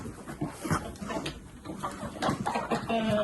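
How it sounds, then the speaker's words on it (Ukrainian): A backyard hen clucks in short, irregular bursts as she walks off. The calls are close and moderately loud, with faint rustling and farmyard background noise between them. "Так, вон ще курочка одна. Пішла."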